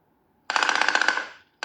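A rapid machine gun burst added as a sound effect to a home movie, roughly a dozen sharp rattling shots in under a second, loud and close, followed by the start of another burst.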